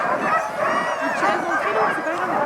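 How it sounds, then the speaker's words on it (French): Excited sled dogs in snowy Lapland yip and bark in a loud, continuous chorus, with rising whines mixed in and steady outdoor noise beneath. "ce sont des chiens qui sont super excités à l'idée de la promenade et qui adorent tracter des choses"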